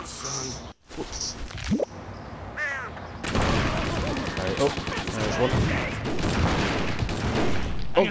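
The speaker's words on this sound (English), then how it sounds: "There's like a machine gun or something." Rapid gunfire in the Stubbs the Zombie video game, with dense bursts running steadily through the second half, plus caw-like squawks and a whoosh earlier on, all under ongoing speech.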